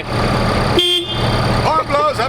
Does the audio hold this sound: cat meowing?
no